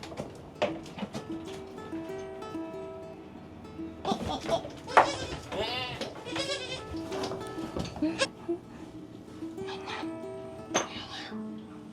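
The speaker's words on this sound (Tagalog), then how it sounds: "Hi, baby kambing!" A young goat bleats several times, close and loud, while a person talks to it in a gentle voice between the cries.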